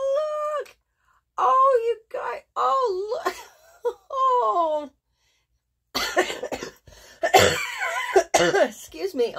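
A person coughs repeatedly in rough bursts, mixed with strained vocal sounds and brief speech, close to the listener.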